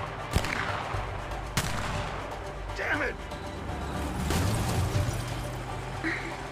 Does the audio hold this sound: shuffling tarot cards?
no